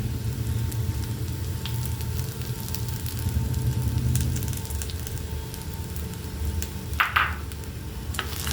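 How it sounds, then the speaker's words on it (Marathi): Dudhi muthiya frying in a pan gives a steady low sizzle and crackle that runs the whole time, with a brief louder scrape or stir near the end. "या पद्धतीने पाच मिनटं फ्राय होऊ द्यायचे"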